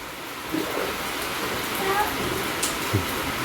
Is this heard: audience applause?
no